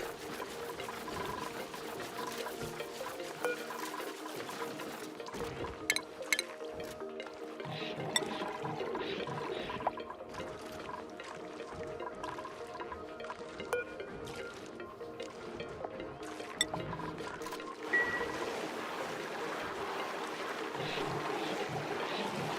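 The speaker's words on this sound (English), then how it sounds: "water bottles have been dropped into the water tank" Water pouring and trickling into a water tank in Oxygen Not Included, a steady liquid fill with faint clinks and drips throughout, moderately close and with no talking.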